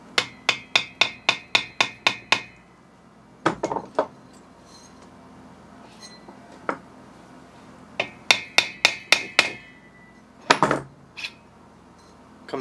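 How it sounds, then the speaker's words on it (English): A hammer taps a flathead screwdriver wedged into a gap to free a clutch part on an AC Nitro 200, producing a rapid run of about a dozen sharp metallic clinks, then scattered knocks and a second quick burst of taps, close and clear without talk. "grab a flathead screwdriver and a hammer. We're going to put this in the gap. We're not going to pound on it, we're just going to tap it"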